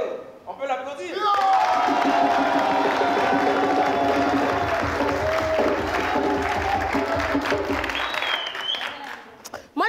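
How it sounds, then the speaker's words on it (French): Studio audience applause on a Burkina Faso TV entertainment show, sustained dense clapping with some cheering and whoops over it, a voice talking briefly at the start and end. "On peut l'applaudir."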